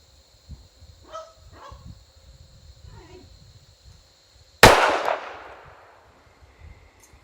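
A single sharp pistol shot from a SIG Scorpion Carry on a shooting range rings out loud and close, followed by a decaying echo, after a few soft handling sounds.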